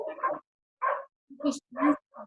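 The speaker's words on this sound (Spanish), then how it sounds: "se escuchan los perros ladrando" Dogs barking outside during an indoor talk, heard as four or five separate barks spaced through the clip with short gaps between them. They sound moderately close and are heard alone, without speech.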